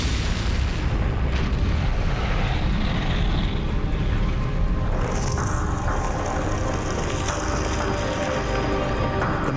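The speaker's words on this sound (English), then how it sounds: "the massive explosion engulfs the neighborhood and rises more than 300 feet into the air" A huge, roaring fuel tank explosion with dense crackling and rumbling, sustained and loud, shifting to a hissing roar partway through.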